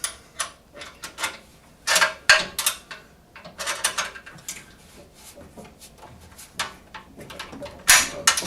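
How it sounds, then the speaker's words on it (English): Bolts are tightened by hand while assembling a Hyundai HYT140 garden tiller, a series of close, quick ratcheting clicks and metallic taps in irregular bursts over several seconds. "I can tighten the bolt on the outside"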